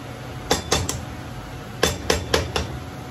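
Cabbage and callaloo stirred in a pot, sharp metallic spoon knocks against the pot in two clusters of three or four strikes over a low background hum.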